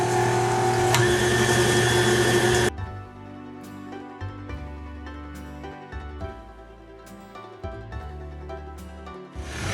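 An electric beater with a wire whisk runs loudly while creaming sugar for a fruit cake, then drops to a quieter, uneven whirring with bumps and clatter through the rest.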